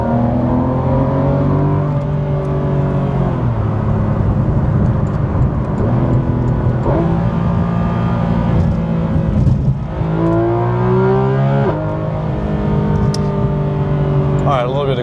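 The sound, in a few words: car engine running and revving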